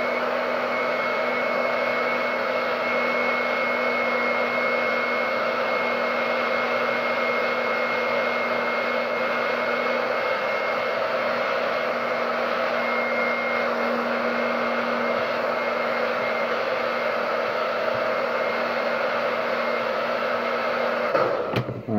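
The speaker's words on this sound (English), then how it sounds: "We'll probably only need to do one heating up, like, with the hairdryer." A hair dryer blows continuously with a steady whooshing roar and a faint whine, running unbroken for about twenty seconds before cutting off, used to heat material while customising.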